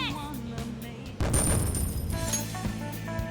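Gunfire bursts open a Persona 5 Royal ambush, a sudden loud salvo of overlapping shots over game music and effects, fading into ringing tones.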